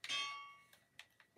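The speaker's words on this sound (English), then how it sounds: "An amazing sound from the anvils too." Metallic anvil clang from Minecraft, a single bright ringing strike followed by a few faint, short knocks, quiet and close.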